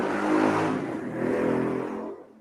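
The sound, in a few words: motorcycle revving passing by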